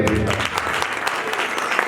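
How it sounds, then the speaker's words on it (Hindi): An audience at a talk bursts into loud, dense applause, a short continuous patter of many hands close by. "जोर दो ताली में"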